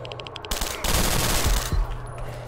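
Sustained automatic gunfire in STALKER: Shadow of Chernobyl, a dense, loud burst of rapid shots lasting about a second and a half, followed by a quieter in-game ambient hum.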